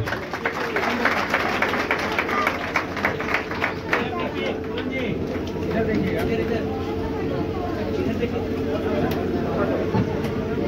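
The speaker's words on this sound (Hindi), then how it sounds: "जोरदार तालियों के साथ।" Steady, loud clapping from a large crowd fills the whole stretch, with voices and chatter mixed in underneath.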